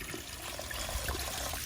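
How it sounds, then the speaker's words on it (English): Water rushes steadily through a heating system as a radiator valve is opened during a Viessmann boiler installation, producing a continuous close hiss and gurgle at moderate level with no talk. "I'm going to open the next radiator now and see what happens"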